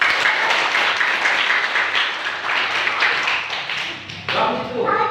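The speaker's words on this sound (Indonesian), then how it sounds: "Kasih aplaus" Audience of Islamic boarding school students clapping in response to a preacher, a dense burst of applause lasting several seconds, with voices mixed in near the end.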